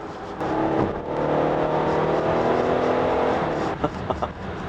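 A Hyundai Staria LPG van engine revs hard in sport mode and holds a loud, rising drone, then eases off with a few short throttle blips near the end; no one speaks.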